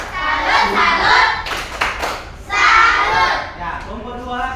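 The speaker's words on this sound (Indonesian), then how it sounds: "tepuk tangan untuk kelompok 1" A group of people clapping in bursts for a team during a coding and artificial intelligence training class, with rhythmic clapping and shouted cheers in short waves separated by brief pauses, close and lively.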